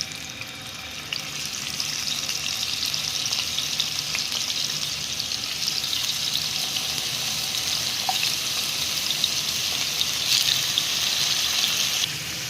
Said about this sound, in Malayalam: ഞാൻ എണ്ണ ഒഴിച്ചിട്ട് ചിക്കൻ വറക്കാൻ പോവാണേ